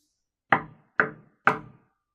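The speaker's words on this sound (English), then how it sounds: "The knock letting them know that Aryeh was at the door" Three sharp knocks on a door, evenly spaced about half a second apart, loud and close with short decays, alone in silence.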